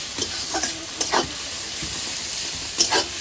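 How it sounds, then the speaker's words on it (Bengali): Onions fry in a pan with a soft, continuous sizzle while a spoon stirs them in short scraping strokes, a few quick scrapes close together, then a pause, then another burst near the end. "পেঁয়াজটা তাড়াতাড়ি ভাজা হয়ে যাবে।"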